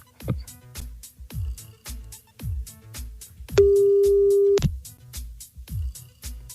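Repeated telephone tones sound at a steady rhythm with no answer, broken once by a sustained one-second beep before the pattern resumes, with no one speaking.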